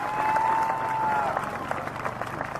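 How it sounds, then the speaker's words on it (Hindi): A large political rally crowd breaks into applause for Rajeshwar Dev Varma, a steady wash of clapping under a sustained amplified tone, with voices mingling in the crowd noise. "उसको भी ताली मिलना चाहिए"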